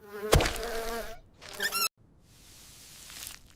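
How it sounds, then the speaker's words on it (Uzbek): A housefly buzzes close by in two loud, droning bursts, then fades to a fainter, steady hum. "Men pashshaman. Axlatdan kelib ovqatingizga qusaman."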